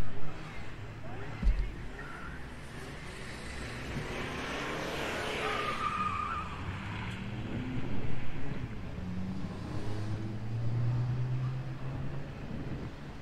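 A car runs a gymkhana course at a motor club event, its engine rising and falling as it passes through an alleyway section. The engine is moderately loud and steady, with a commentator talking over it.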